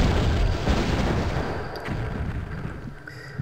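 A grenade launcher explosion in the Terminator: Future Shock video game, a loud, dense blast with rumbling low-end that holds steady across the clip and tapers slightly, with no talking over it.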